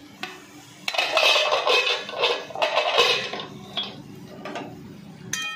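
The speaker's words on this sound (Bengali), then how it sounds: "এবারে আমি ঢাকনাটা খুলে নিচ্ছি" A metal lid is lifted off a pan of pointed gourd cooking on the stove, giving a run of clattering, scraping metallic knocks and rattles, close and fairly loud, with a sharp clink near the end.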